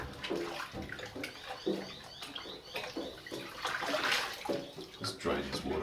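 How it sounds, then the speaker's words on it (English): Dirty water with blue sugar soap draining out of a tub after car interior parts were soaked, gurgling and splashing with intermittent trickles and faint chirpy sounds, close by and moderately loud, with occasional speech over it. "Just drain this water out and see what's in here."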